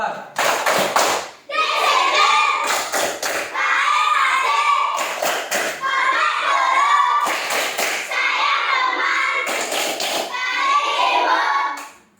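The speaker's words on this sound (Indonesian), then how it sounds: "Tepuk kelas 4." Fourth-grade pupils chant and clap through the 'tepuk kelas 4' classroom routine, with several loud bursts of rapid group clapping punctuating continuous children's chanting nearby.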